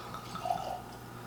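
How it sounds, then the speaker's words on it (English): Maker's Mark 46 Cask Strength bourbon poured from a freshly opened bottle into a glass: a short, soft, trickling splash that swells briefly in the middle and then fades, quiet and close. "So pour a little bit into the glass."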